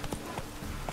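Rhythmic clip-clop of a galloping horse's hooves in The Witcher 3, a steady, close, fairly loud beat of repeated hoof strikes with no talking.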